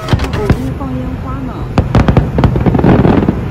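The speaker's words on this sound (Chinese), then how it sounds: "我给你放烟花" Fireworks go off in a rapid series of sharp cracks and pops, growing denser and louder toward the end, with voices talking over the bursts.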